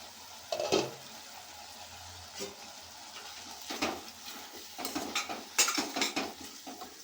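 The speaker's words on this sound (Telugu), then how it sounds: "లిడ్ని తీసుకుందాం." Pot lid lifted off a simmering ridge gourd curry, with a few sharp metallic clinks and clatters of lid against pot scattered over a quiet kitchen background, no talking.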